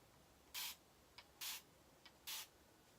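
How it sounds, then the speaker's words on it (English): A hair mist spray bottle filled with water gives three short, soft hissing sprays, evenly spaced and close, each with a faint click of the trigger between them in an otherwise quiet room. "I don't know if you can see the mist when I spray."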